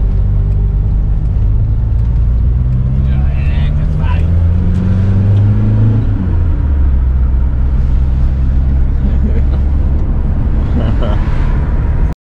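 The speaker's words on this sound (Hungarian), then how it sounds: "Megjöttünk, itt az én kicsi buszom." A Volkswagen T3 bus, rebuilt and fitted with a turbo, rolls in with its engine running, a loud low rumble that slows and settles toward idle, with people talking nearby.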